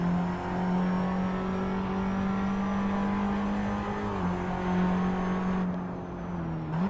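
A Formula Abarth single-seater's engine holds a steady, loud, high-pitched drone in an Assetto Corsa public race, dipping briefly as it shifts, then rising again near the end.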